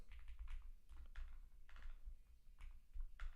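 Someone types on a computer keyboard at close range, with irregular clusters of crisp key clacks and short pauses between bursts.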